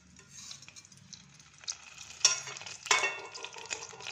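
Mustard seeds, chana dal, urad dal, cumin and fenugreek spluttering in about four spoons of hot oil in a pressure cooker pot, a crackling sizzle with spoon scrapes and a few louder popping bursts near the end.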